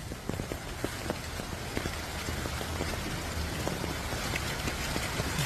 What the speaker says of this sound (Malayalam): ഹോയ് നല്ല മഴയാണ്.